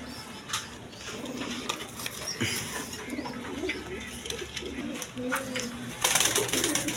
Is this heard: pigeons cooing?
yes